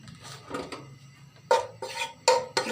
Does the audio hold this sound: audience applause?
no